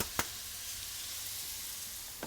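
Onion and fennel sizzling in butter in a pan, a steady, soft frying hiss running throughout with two brief clicks of the pan near the start and end.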